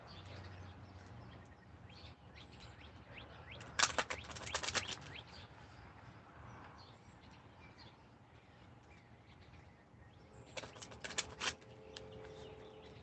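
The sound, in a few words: shuffling a deck of cards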